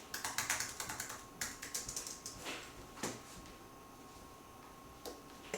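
Someone types on a new USB Apple Magic Keyboard: a quick run of close, crisp key taps that slows and thins to a few scattered presses, with no talking.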